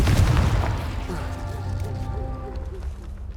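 A Confringo spell explosion in the Hogwarts Legacy video game: a loud booming blast at the start that decays into a rumbling tail with faint tonal sparkle, with a voice underneath.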